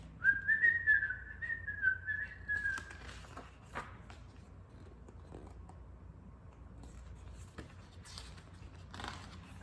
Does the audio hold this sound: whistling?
yes